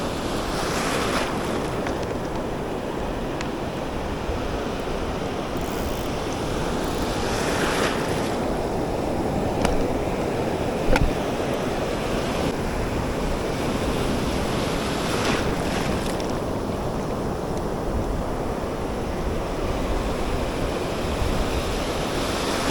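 Rough sea waves wash steadily over a Jamaican reef while strong wind buffets the microphone, a continuous loud roar with a few brief gusts and no talking.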